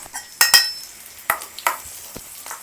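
Dried red chillies crackle in hot oil for a bachelor-style tomato rice, with a soft sizzle carrying sharp clinks and scrapes of a spoon stirring against the pot at close range.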